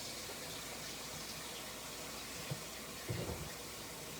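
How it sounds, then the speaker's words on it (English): A kitchen sink fills from a running tap with hot soapy water: a steady, quiet rushing hiss throughout, broken by a few soft clunks near the end. "Fill it up with some hot soapy water."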